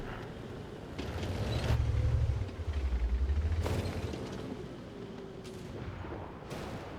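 Tank gunfire in a World of Tanks-style battle on the Ruinberg map, heard while playing an M5A1 light tank. Several sharp, booming shots ring out against a rumbling engine and creaking treads, and a few distant reports follow.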